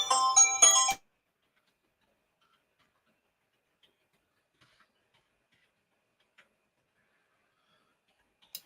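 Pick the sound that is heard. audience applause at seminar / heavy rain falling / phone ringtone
phone ringtone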